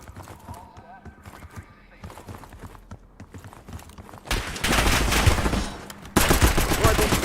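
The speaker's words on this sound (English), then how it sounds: "Why's this gun shoot like that?" Rapid bursts of gunfire from a C9 submachine gun in a live-streamed shooter game, loud and dense in the final seconds after quieter footsteps and low game noise, with players talking.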